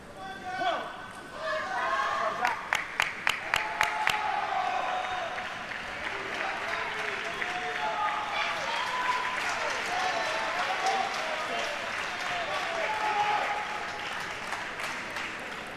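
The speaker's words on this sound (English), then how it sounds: "Home crowd here giving him loads of support." The home crowd at a para table tennis championship match in Europe applauds, with a quick burst of sharp rhythmic claps followed by sustained, dense clapping and cheering that holds steady for several seconds.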